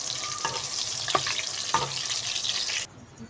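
Eggplant slices fry in hot oil with a continuous bright sizzle, broken by three soft knocks of a utensil, before the sizzle abruptly drops to a faint hiss near the end.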